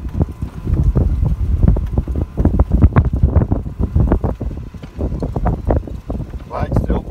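Wind gusts buffet the microphone on an open golf course, a loud, rough rumble that rises and falls in bursts throughout while someone talks over it.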